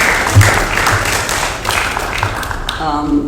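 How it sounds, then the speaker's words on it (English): Applause from a roomful of residents at a residents council meeting, steady and fairly loud, with voices talking over the clapping and a voice speaking near the end. "A round of applause for them."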